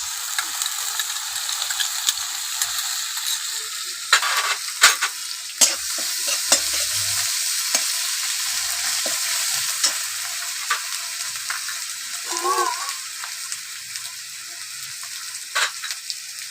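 Ginger garlic paste fries with a fish head in a pan for a cabbage dish, a continuous bright sizzle broken by occasional stirring scrapes and clinks of the spoon against the pan.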